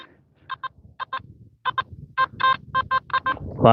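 A metal detector gives a series of short, paired electronic beeps, a double signal of about ten bursts, some doubled, close and fairly loud with a faint low rumble underneath.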